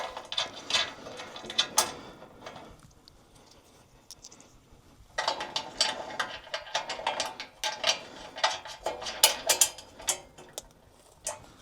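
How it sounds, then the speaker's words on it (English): A ratchet wrench tightening nuts with washers on the back of a Wolfe Ridge VS umbrella mount accessory; bursts of quick ratcheting clicks, a short pause, then a longer run of rapid clicks, close and clear. "Grab my ratchet again."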